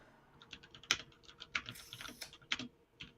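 A computer keyboard is typed on in an irregular run of soft, close key clicks with a few sharper taps, steady and unaccompanied by speech.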